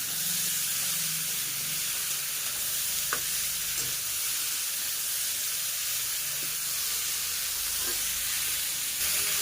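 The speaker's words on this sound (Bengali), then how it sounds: "আলুটা দেওয়ার পর আলু আর বিটটা আরও একটু সময় নিয়ে খুব ভালোভাবে একটু ভাজা করে নেব।" Diced potato and beetroot frying in a pan, a continuous hissing sizzle with occasional faint scrapes or clicks from stirring, close and steady with no talking.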